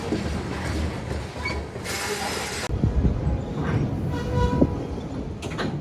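A CSX GP40-2 EMD four-axle diesel locomotive rolls past close by on an afternoon, a loud steady rumble of engine and wheels with clanking rail joints and a sharp hiss or screech of brakes early on.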